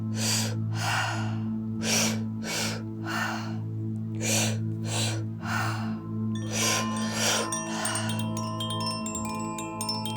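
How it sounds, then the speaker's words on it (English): Breathwork pattern of two quick inhales through the mouth followed by one exhale out the mouth, repeated in a steady rhythm of sharp, close breaths over a low sustained drone, with a bell-like tone near the end. "the breath is 2 inhales through the mouth, 1 out the mouth"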